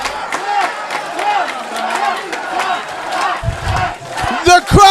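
Wrestling crowd at a DEFEND Indy Wrestling show chants and cheers loudly for OJMO in rhythmic surges, stomping and clapping joining near the end, with a commentator's voice faintly mixed in.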